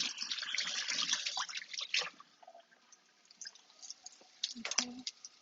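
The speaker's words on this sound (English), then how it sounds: "Just gonna rinse off my hands real quick." Tap water running and splashing in a kitchen sink while hands are rinsed, a steady close hiss that breaks off midway, followed by a few scattered drips and clinks.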